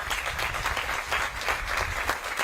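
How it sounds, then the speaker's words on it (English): A crowd claps steadily at an outdoor groundbreaking ceremony and press conference, with a continuous wash of applause from many hands throughout the short moment. "how about a round of applause for Makalapua?"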